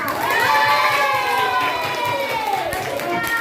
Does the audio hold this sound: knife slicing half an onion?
no